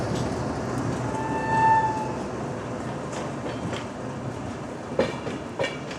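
A diesel-locomotive-hauled Humsafar Express train runs at speed, with a steady rumbling roar, a brief hum of a distant horn, and a few rail clicks toward the end, heard from inside the train.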